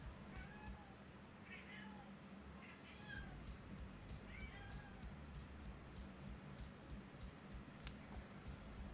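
A pet cat meowing several times, short high mews spread across the stretch, fairly faint over a steady background hum.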